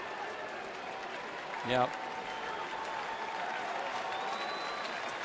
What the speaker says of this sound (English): Listen to the crowd at Turner Field